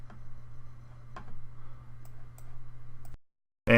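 Computer mouse clicks while a JavaScript page is refreshed, sparse soft clicks over a steady low hum, then a sudden louder burst at the end.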